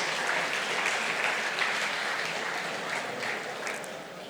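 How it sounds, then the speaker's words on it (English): A public lecture audience at a Nigerian democracy anniversary celebration gives a sustained round of applause, many hands clapping together in a dense, even roar that fades slightly toward the end. "I think they need a round of applause."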